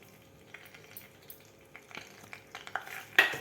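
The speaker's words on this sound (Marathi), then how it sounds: "तूप घातल्यानंतर सुद्धा आपल्याला 1 मिनिटभर रवा भाजून घ्यायचा आहे." Semolina roasts with ghee in a pan while being stirred, giving quiet scraping and light clinks of a utensil against metal, growing busier and louder toward the end over a faint sizzle.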